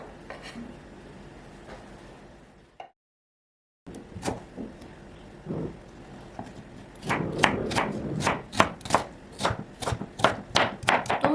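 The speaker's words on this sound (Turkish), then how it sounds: "Domateslerimi ince ince küçük küçük olacak şekilde doğruyorum." A knife finely chops green tomatoes on a cutting board, sharp rhythmic taps picking up speed after a brief silence and some quieter handling sounds.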